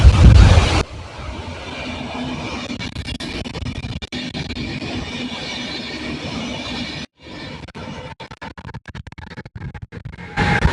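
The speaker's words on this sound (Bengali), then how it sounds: "এই যে দেখেন একটা ট্রেন আসতেছে" A train approaching in Austria, a sustained rolling rumble with scraping, gusty wind-buffeted noise and a few sharp knocks, heard close and fairly loud without talk.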